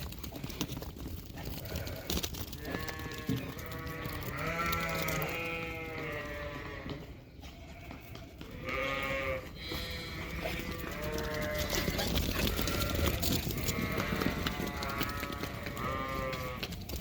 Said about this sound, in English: Now they're mountain sheep.